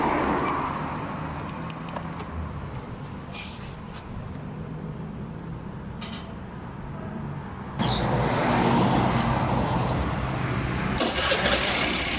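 A motorcycle engine idles with a continuous close rumble during a fuel injector test at a repair shop, then grows noticeably louder partway through as the revs rise.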